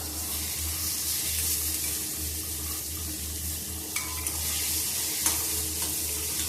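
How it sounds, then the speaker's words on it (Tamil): Onion and tomato sautéing in a pan, a steady close sizzle with a low hum underneath and a few soft utensil clicks near the end. "இந்த தக்காளியும் நல்லா வதங்கணும்"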